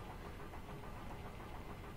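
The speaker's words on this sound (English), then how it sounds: "the heat is going to kill the engine if we get any closer" A vehicle engine in the Final Fantasy IX video game strains near a volcano, a low, rough, continuous rumble with steady vibration and no break, fairly quiet throughout.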